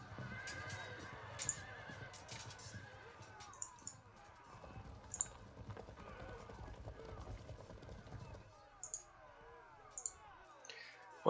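A video game horse whinnies and snorts several times at low volume over a soft background bed, with occasional faint clicks and hoof-like taps.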